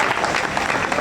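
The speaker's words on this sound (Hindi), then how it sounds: "ताली बजाइए।" Audience at a Hindi comic poetry recital bursts into dense, continuous clapping after a poem ends, loud and close for about a second.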